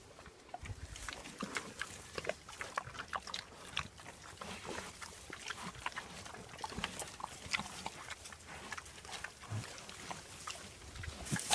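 Free-roaming farm pigs grunt and oink in quick bursts over a busy, rustling outdoor background, near and fairly loud.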